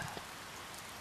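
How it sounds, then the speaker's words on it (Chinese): Steady cartoon-style rain hisses evenly throughout, a dense continuous patter with no voices. "下雨了！"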